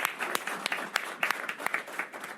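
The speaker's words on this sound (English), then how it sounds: "give her a round of applause as well." Scattered audience applause at a New York City veteran advisory board meeting, a short burst of irregular hand claps from a modest crowd.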